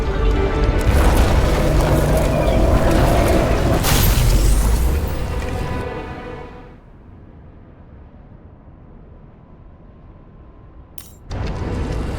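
Transformer catching fire in the game Nobody Wants to Die: a loud, close roaring burst of electrical fire and crackle that fades to a low hum, then a sharp bright snap and another surge of noise near the end.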